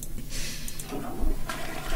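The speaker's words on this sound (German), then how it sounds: "Klo funktioniert auch." A toilet flushes in the horror video game Dungeon Nightmares II, a rushing, gurgling flow of water that runs through the two seconds with a surge toward the end and no talk over it.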